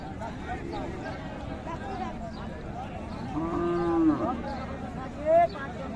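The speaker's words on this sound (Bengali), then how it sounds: "এই গাভীটা কিন্তু দেখছিলাম এটাও দেখালাম আরও কিন্তু সুন্দর বেশ কয়েকটা গাভী আছে" Sahiwal cows at Raniganj cattle market in Dinajpur, some with calves, give a couple of low, drawn-out moos at close range over a steady crowd murmur and nearby talk.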